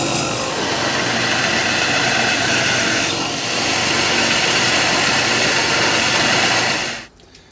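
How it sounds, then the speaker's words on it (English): Belt grinder fitted with a contact wheel and a coarse 36-grit belt hogs steel off a puukko knife blank, a loud, steady roaring grind with a continuous abrasive hiss that cuts off abruptly near the end. "got my contact wheel on for faster grinding, and I got a good 36 grip belt on here"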